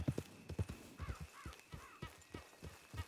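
Horses clip-clop in a brief series of hoof thuds across a field area, with faint whinny-like cries in the middle and light outdoor background.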